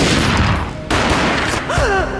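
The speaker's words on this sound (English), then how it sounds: "A gunshot boomed and she fell down in slow motion." Gunfire in the Max Payne video game: a loud, booming shot bursting out over dense game sound, followed by a sharp cut and a swelling noisy tail.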